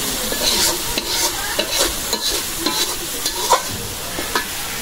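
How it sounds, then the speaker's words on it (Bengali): Spice paste being stir-fried in a pan for a beef and sweet pumpkin curry: a continuous sizzle broken by repeated scraping and stirring strokes of a spatula, close up and moderately loud, with no talking. "মশলাটা ভালো করে কষাই নিলাম"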